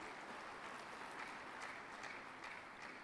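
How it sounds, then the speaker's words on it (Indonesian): Audience applause at an Indonesian blockchain technology conference, a steady, faint wash of clapping that holds evenly for the full three seconds with no voices over it. "Tepuk tangan untuk blockchain."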